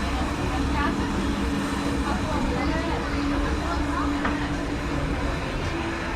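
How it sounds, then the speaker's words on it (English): A heritage railroad engine rolls slowly past to couple onto the passenger cars, a loud, steady rumble with faint clanks and squeals heard from inside a car, people talking over it. "the engine will actually go down on the other side of us and pull us back and hook up on the other side"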